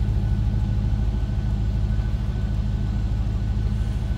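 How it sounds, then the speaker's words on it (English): A 2006 Pontiac GTO with a 6-liter V8 idles with a low, steady rumble, the engine note constant and close throughout with no talking. "Nice sounding car too. A little rumble coming out of that 6-liter."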